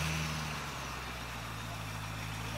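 A 2009 Cadillac CTS-V engine idles with a low, steady hum and faint tonal drone, running smoothly and continuously close by.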